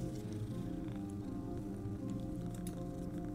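A cat purrs steadily in the video game Fran Bow, a low continuous rumble that stays close and even for the whole stretch, with no voices over it.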